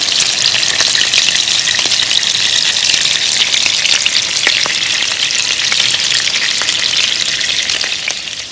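Turkey meatballs with garlic fry in a pan, a loud, steady hiss of sizzling oil with scattered crackles and pops, close up and uninterrupted, easing off slightly at the end.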